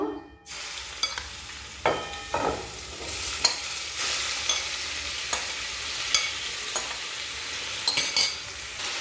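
Chicken frying in about two spoons of hot oil in a kadai, a steady broadband sizzle with intermittent stirring scrapes and clinks of a spoon against the pan, close and continuous.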